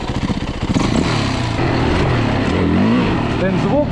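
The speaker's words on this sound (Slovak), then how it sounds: "Ten zvuk motorky." A Yamaha WR450F dirt bike engine runs close by after repair, giving a loud, steady, throaty drone with slight revving and no pauses.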